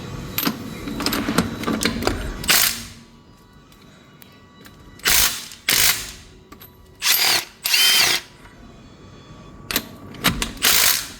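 Repeated bursts of a Milwaukee M cordless impact wrench hammering as it tightens a bolt, each a few seconds long with quiet gaps between, close and loud.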